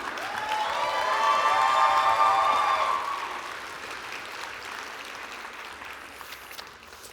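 A cheering section at the AZBio Awards ceremony in Phoenix, whooping and clapping loudly for the educator honoree; the raised voices and applause peak in the first few seconds, then taper to a thinner, fading patter.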